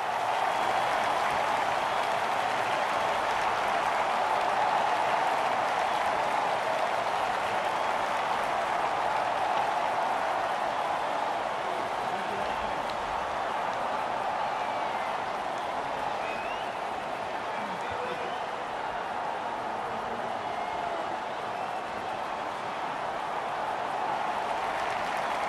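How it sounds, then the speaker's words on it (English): Stadium crowd cheering in the cricket video game Don Bradman Cricket 14, a continuous wash of roaring and clapping that holds steady for the whole stretch, broad and distant-sounding, with faint commentary underneath. "The crowd are on their feet, cheering their home team hero to complete his hat-trick."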